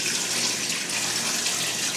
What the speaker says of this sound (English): a simple trick that I do before bringing it out is I'll fill it with water